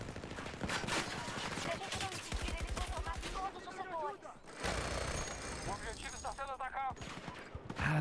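Bursts of machine gun fire during Battlefield 2042 gameplay, rapid rattling volleys broken by short pauses, with other game effects around them and players talking over the shooting.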